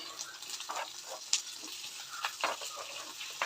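Green chillies and cubed chayote being stirred in a frying pan, a soft continuous sizzle with scattered scrapes and clinks of the spoon, fairly faint and without voices.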